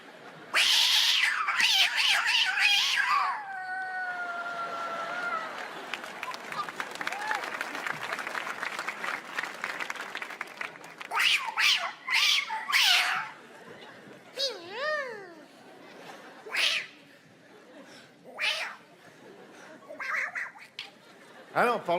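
Stand-up comedian's voice imitating cats, with drawn-out meows and yowling caterwauls, close and loud, followed by audience laughter and applause, then more short vocal cat noises and speech on stage.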